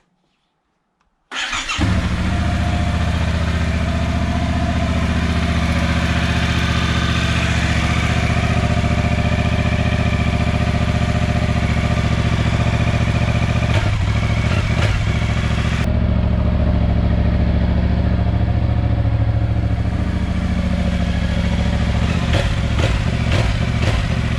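A cold Yamaha Tracer 700 motorcycle engine fires up after a moment of silence, then settles into a loud, steady, rumbling idle with a faint mechanical clatter, close up and without talk.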